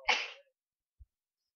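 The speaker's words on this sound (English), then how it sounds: "I have to sneeze." A single sharp sneeze, close and loud, bursts out and cuts off quickly, followed by a soft thump a moment later in an otherwise quiet room.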